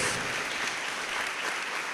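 Church congregation applauding during a prayer gathering, a steady dense wash of clapping that fills the whole moment without pause.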